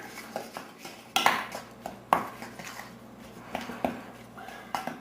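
A spoon works Swedish meatball mixture around a bowl, giving several sharp clinks and scrapes against the bowl at irregular moments, close and fairly quiet, with soft handling noise between them.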